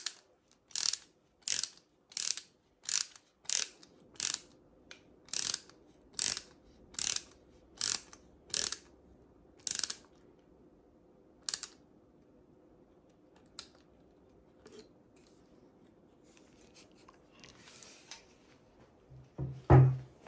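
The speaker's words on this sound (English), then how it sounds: "Just put them in and tighten the screws." Screws are tightened into a Samsung M7 32-inch smart monitor's base with a ratcheting tool, a run of about fifteen sharp evenly spaced clicks that slow and stop, followed by quieter handling noises.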